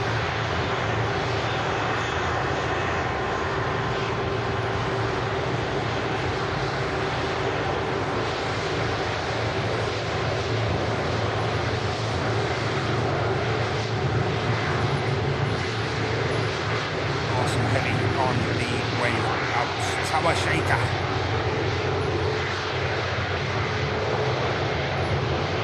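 A Virgin Atlantic jet taxis at Manchester Airport, its engines giving a steady, loud broadband roar that holds throughout with little change, while a voice talks over it.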